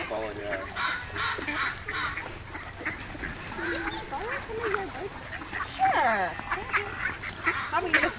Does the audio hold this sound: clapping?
no